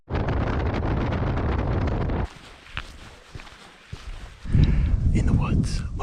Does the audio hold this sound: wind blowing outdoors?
yes